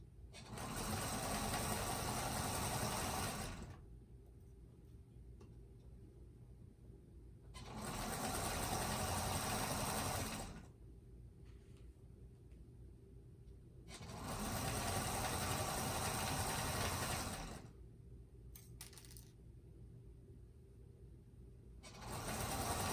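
Stitching a table runner, a sewing machine runs in three long, loud, even bursts with quieter pauses between them and a fourth burst just starting at the end.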